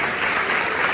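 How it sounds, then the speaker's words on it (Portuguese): Congregation at an energetic church worship service in Rio de Janeiro applauding, a dense continuous wash of clapping and crowd noise filling the whole moment. "Aplausos do Senhor Jesus"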